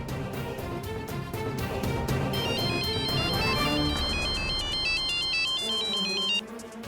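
A melodic mobile phone ringtone sounds for an incoming call from Roshni, its bright repeating electronic tune playing steadily and fairly loud over a dense musical background for several seconds before cutting off near the end.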